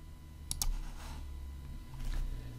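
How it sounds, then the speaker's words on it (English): Computer mouse clicking, a quick close double click followed later by a softer pair of clicks over steady low room hum. "We can right click, press on edit."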